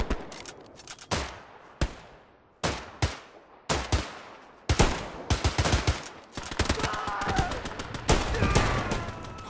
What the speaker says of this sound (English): We got some suppressive fire.